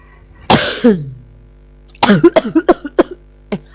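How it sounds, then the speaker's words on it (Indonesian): A single harsh cough, then after a pause a burst of several quick coughs in a row, close and loud with no other sounds. "Aku batuk beneran tadi tuh bang"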